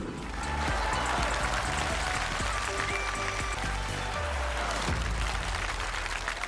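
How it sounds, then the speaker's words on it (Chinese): A studio audience at a televised Chinese comedy sketch performance applauds steadily for several seconds, a broad wash of clapping with faint musical tones underneath. "谢谢大家的掌声"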